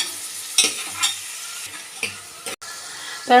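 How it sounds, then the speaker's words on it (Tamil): Chopped onions sauté in oil with a constant hiss, marked by a few distinct stirring scrapes and a brief clink of utensil on pan near the end. "வெங்காயம் வந்து நல்லா வதங்கணும் எண்ணெயோட கூட நல்லா வதங்கணும்"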